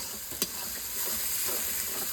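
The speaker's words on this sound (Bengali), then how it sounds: "এটা পেঁয়াজটা ভাজছি।" Onion frying in a pan, a soft continuous sizzle with a brief clatter near the start, fairly quiet and close with no voices.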